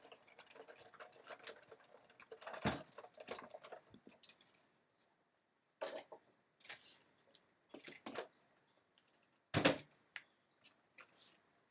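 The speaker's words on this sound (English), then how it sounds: "we're going to put this on the Big Shot platform, then one plate, the embossing folder, and then another plate, and then just crank it through" A Big Shot die-cutting machine is cranked with an embossing folder and plates, giving quiet ratcheting ticks and several sharp clacks and thumps spread irregularly through a near-silent room.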